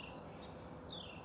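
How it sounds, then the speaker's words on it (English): A bird calls outdoors on a warm mid-September day on Cape Cod, giving two short, high, sweeping chirps in separate bursts. Both sound faint and somewhat distant against a quiet background. "What kind of bird is that?"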